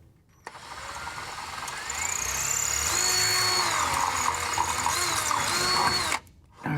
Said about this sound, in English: I'm going to mark this, and then I'm going to start drilling